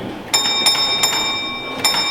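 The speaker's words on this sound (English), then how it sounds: "he then responds the line is clear by repeating that bell signal back to signalman A" Railway signal box block bell at a Lancashire & Yorkshire Railway signalling school, struck in a short bell signal: four clear metallic dings spaced irregularly, each ringing with sustained overtones, heard close and alone.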